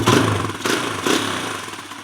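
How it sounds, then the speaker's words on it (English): A Kawasaki KLX140 dirt bike, running lean and not fully warmed up, idles close by with a loud, uneven chugging putter and a couple of small surges in level before settling back, with no speech. "The idle isn't hanging yet, although the engine might not be fully warmed up."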